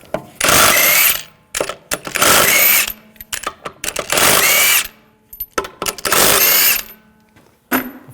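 An impact-style power tool with a 19mm socket spins lug bolts off a 2001-2009 Volvo S60 wheel. Four loud, close whirring bursts of about a second each come in succession, with ratcheting clatter and clicks of parts being handled between them.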